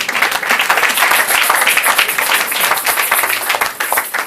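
A church congregation bursts into lively, sustained applause at a worship service, dense clapping from many hands filling the space at close range for several seconds without a break.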